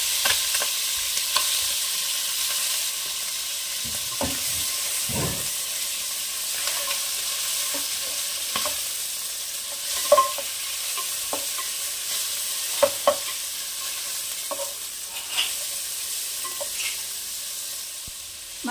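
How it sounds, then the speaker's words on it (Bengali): Marinated meat fries in hot oil for a restaurant-style mixed fried rice, giving a steady close sizzle with scattered pops and spatters and occasional stirring clatter throughout. "এই তেলেই ভেজে নেব ম্যারিনেট করে রাখা মাংস।"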